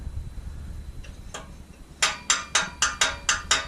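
Active exhaust valve flap on a 2018 Dodge Charger Scat Pack clicking and clacking, a few faint ticks followed by six sharp, evenly spaced mechanical snaps close by, with no talking.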